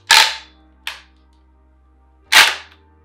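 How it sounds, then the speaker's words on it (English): A Nerf Elite Rukkus ICS-8 blaster gives three sharp, loud pops, the first and last the strongest and a fainter one just after the first, with a long quiet gap before the final shot. "I guess you pump it up like this and then fire it."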